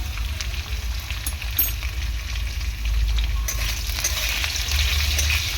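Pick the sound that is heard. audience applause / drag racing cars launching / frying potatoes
frying potatoes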